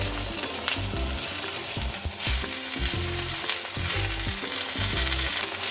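Mint and coriander fry in hot oil for a village-style mutton curry, a steady loud sizzle with rhythmic stirring scrapes of a spoon against the pan.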